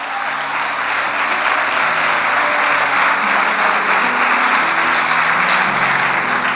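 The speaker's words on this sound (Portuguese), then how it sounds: "Pode dar um aplauso ao Senhor." A church congregation at a consecration service claps in sustained, dense applause, loud and steady throughout with no talk.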